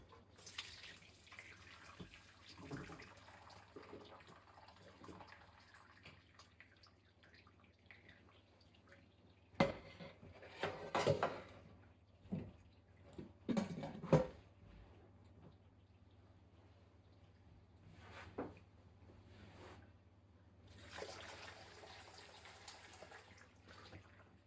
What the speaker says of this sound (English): I still have another small pot to drain